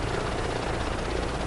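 Helicopter in flight in Microsoft Flight Simulator 2024 on a tour, a loud steady rotor and turbine drone with a rapid rhythmic blade chop, close and continuous throughout.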